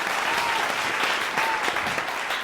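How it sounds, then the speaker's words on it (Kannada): A studio audience at a televised singing reality show gives loud, sustained applause for a contestant, a dense and continuous wash of clapping with no talk over it. "ಜೋರಾದ ಚಪ್ಪಾಳೆ ಬರಲಿ"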